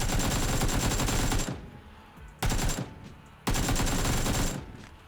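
Bursts of automatic gunfire from PUBG bots in the video game: three loud, dense volleys of rapid shots separated by brief quieter gaps, close and dominant.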